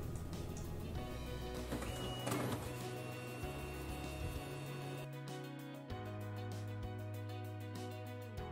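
Evolis Primacy card printer printing a PAN card, giving a mechanical whir with shifting motor hums, clicks and a rapid ratcheting feed near the end, close and continuous.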